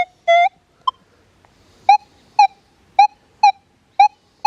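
Manticore M8 metal detector running one region all tones over a gold ring beside an aluminum twist cap, giving a series of short, clear electronic beeps, one longer tone then about seven quick repeated blips at a steady rhythm, loud and close with no talk.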